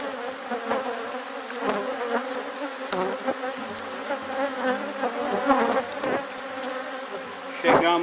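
Honeybees swarm around an opened hive frame during a colony split, a dense close buzzing that holds throughout with shifting pitches and a few brief handling knocks.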